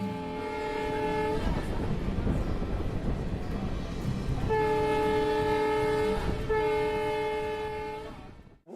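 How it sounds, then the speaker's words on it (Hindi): A DMU passenger train runs at speed on the Indo-Nepal rail line between Jaynagar and Inarwa. Its loud multi-tone horn blasts three times over a rumbling roar of wheels and engine. "इंडो नेपाल रेलखंड पर जयनगर से इनरवा के बीच 85 किलोमीटर की रफ्तार से DMU ट्रेन दौड़ने लगी"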